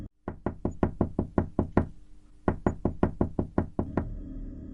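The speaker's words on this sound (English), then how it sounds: "It started with a faint tapping sound." Two sharp, evenly spaced runs of knocks on a door, each about a dozen raps, close and loud with a short pause between the runs.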